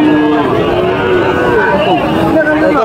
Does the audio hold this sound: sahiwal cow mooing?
yes